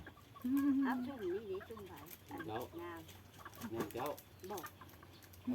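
A hen clucks in short, uneven bursts close by while a person talks over it.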